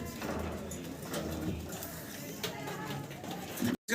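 A pair of black Lahori pigeons, a female and a male, kept in a cage, murmur in low, soft coos against quiet background noise, ending in a brief dropout.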